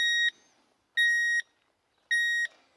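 A metal detector in a mining and heavy-equipment game gives three identical, clean electronic beeps, each about a third of a second long and evenly spaced, with silence between them.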